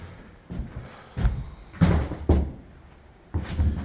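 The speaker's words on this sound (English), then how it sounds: "Little closet doors." Small closet doors in a 1901 farmhouse swinging and bumping shut, a series of several close, hollow wooden thuds and knocks spaced irregularly, with no talk.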